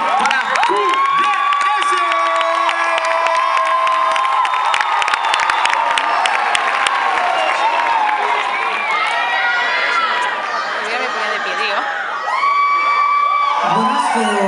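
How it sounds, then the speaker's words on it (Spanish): Loud crowd cheering, whooping and applause for a dance studio company at a festival show, sustained shouts and high cheers over clapping, with a voice speaking briefly amid the roar. "Así que un fuerte aplauso para"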